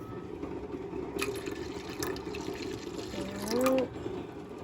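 Tap water runs into a kitchen sink while a pot is scrubbed, with a steady splashing wash, scraping strokes and a brief louder gush near the end.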